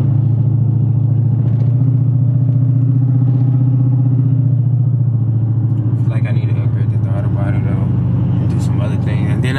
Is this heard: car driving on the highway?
yes